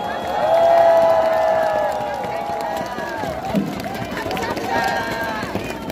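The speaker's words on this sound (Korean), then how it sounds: "여러분, 다시 한번 큰 박수 한번 보내주시기 바랍니다." Crowd at a Korean campaign rally applauding and cheering for a ninety-year-old grandmother who gave a candidate red sneakers, a steady loud wash of clapping and voices with a tonal voice or music line over it.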